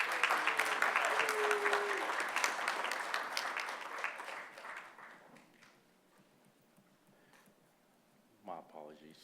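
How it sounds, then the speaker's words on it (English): Crowd applause for graduates at a math, computer science and physics senior ceremony, dense and fairly loud at first, gradually thinning out to scattered claps, then a voice briefly speaks near the end. "let's give our graduates a round of applause"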